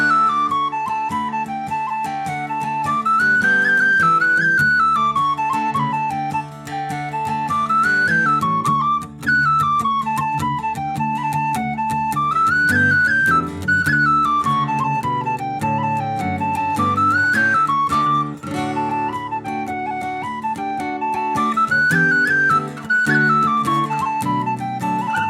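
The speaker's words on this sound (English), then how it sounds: "I'm going to play the tune round once with my dad on the whistle, who is Mick Coyne." Tin whistle carries an Irish jig, My Darling Asleep, its bright melody rising and falling over strummed acoustic guitar in DADGAD tuning, played together steadily and close throughout without any talking.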